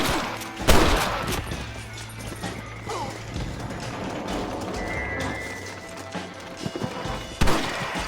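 Gunfire in a Wild West shootout video game, with sharp shots cracking out near the start and again toward the end over a busy layer of hoofbeats and action noise.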